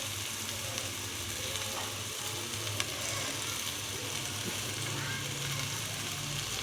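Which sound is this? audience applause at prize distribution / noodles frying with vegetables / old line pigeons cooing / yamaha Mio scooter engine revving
noodles frying with vegetables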